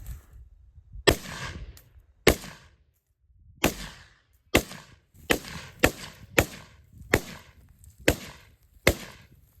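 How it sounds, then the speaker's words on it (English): Roughly nine sharp gunshots from a 5.56 AR-15 rifle at an outdoor range with targets around 100 yards, fired at irregular intervals, each crack loud and close with a short decaying tail. "we're gonna do some walk-in fire"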